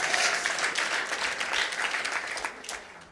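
Audience applause fills a room at a TEA talk event, steady dense clapping that fades a little toward the end, with no talk over it.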